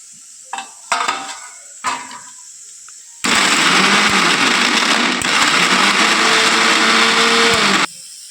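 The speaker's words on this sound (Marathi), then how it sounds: "आता आपण हे मिक्सरमधून छान बारीक वाटून घेऊ" A mixer grinder whirs loudly and continuously for several seconds, grinding tomato, onion, garlic, coconut and other ingredients into a paste, preceded by a few brief knocks and clinks of the jar.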